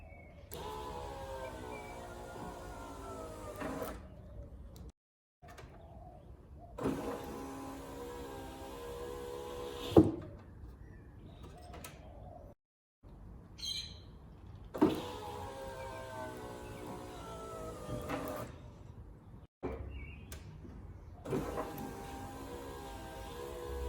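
The power window in the driver's door of a Holden VK Brock Commodore hums up and down through four quiet motor runs, each a few seconds long and separated by brief silences.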